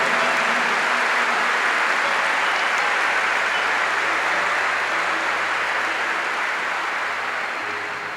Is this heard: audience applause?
yes